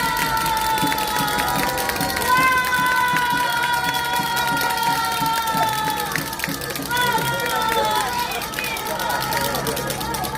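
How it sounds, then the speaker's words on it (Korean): A large crowd cheers and claps at a doctors' rally outside the presidential office, a dense, loud roar of voices and applause over amplified music that runs the whole way through. "큰 박수 부탁드립니다."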